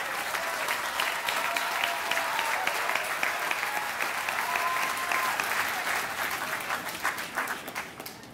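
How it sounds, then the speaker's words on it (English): Loud sustained applause from a graduate commencement audience at USC honoring families, a dense wash of clapping that thins out slightly toward the end. "let's have a round of applause for all the families"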